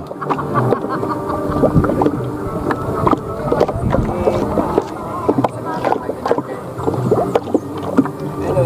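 Small boat moving across Danau Tangkas lake in the Liontin forest, with steady loud engine and water noise plus wind buffeting the microphone throughout.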